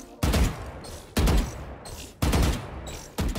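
Repeated gunfire in Valorant's firing range, with four loud bursts of shots, each starting sharply and ringing out before the next.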